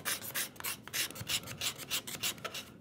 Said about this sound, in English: Scrape it, scrape it, scrape it, scrape it up or scrape it down